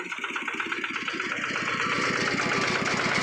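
A 2010 Kubota tractor's diesel engine runs up close with a rapid, even, knocking pulse that swells slightly louder over the few seconds, with no one talking.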